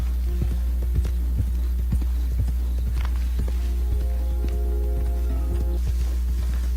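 Horse hooves clopping on the ground in Red Dead Redemption 2, a steady run of soft, repeated hoofbeats over a low constant rumble, with faint tonal game sounds and no talk.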